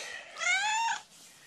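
A kitten gives one clear, drawn-out meow at close range, rising then falling, with a little quiet room tone before and after.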